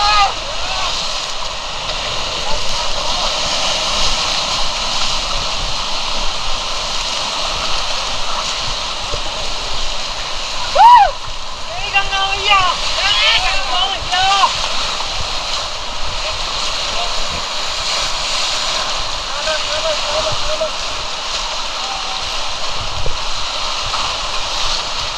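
Broad, steady rush of river water during rafting at Rishikesh, a continuous loud hiss filling the whole stretch, with a brief squeal or shout near the middle rising above it.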